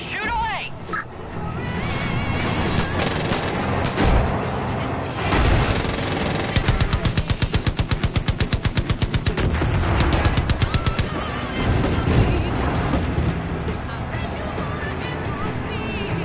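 Cannon blasts and rapid machine-gun fire from the Widowmaker vehicle in the Far Cry 5 video game, a loud sustained barrage with a dense rattling burst of automatic fire in the middle, surrounded by booming explosions.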